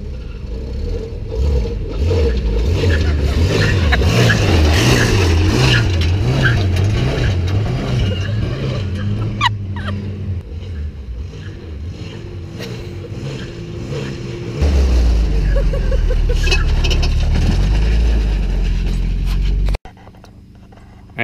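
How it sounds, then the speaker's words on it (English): A pickup truck drives down a road and swerves, its engine loud and steady with a wavering, rising and falling pitch as it shifts. The tone changes partway through, and the sound cuts off abruptly near the end. "So I'm gonna drive down the road and swerve."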